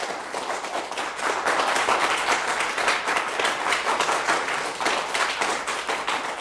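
An audience at a stage music-and-dance program claps loudly and continuously, a dense crowd of overlapping hand claps that holds steady throughout.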